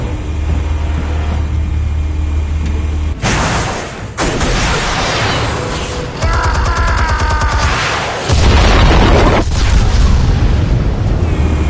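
Explosions in the Batman Telltale video game: loud, booming blasts and crashing rumbles come in several abrupt bursts over about twelve seconds, with dense debris noise between them.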